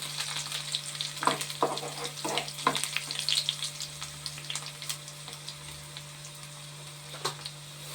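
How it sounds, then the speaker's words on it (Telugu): Chillies frying in a pan, a close crackling sizzle dotted with sharp pops and stirring scrapes, loudest early then settling into a softer steady fry, no talk. "మిరగాయలు వేసానండి."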